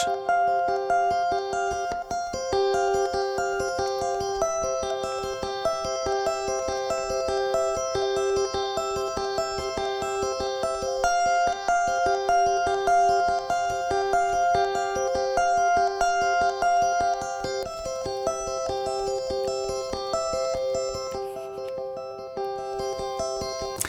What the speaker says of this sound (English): I have a guitar track, a fingered guitar picking